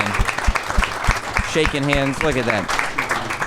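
An audience at a Just for Laughs comedy show in 2019 applauds for a guest, steady clapping that stays under close conversation between men on stage.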